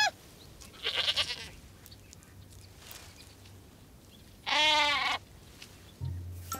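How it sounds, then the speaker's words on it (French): Two loud bleats from goats standing in a tree ring out a few seconds apart, the second longer and strained, with quiet background noise between them. "Un arbre plein de chèvres."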